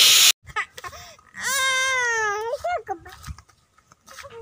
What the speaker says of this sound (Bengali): বাড়ি যাবে না, কান্না করছে